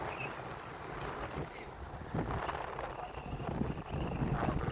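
Gusty wind buffeting and rumbling against the microphone on the hilltop of Savandurga, Magadi, steady and fairly faint, with no clear voices.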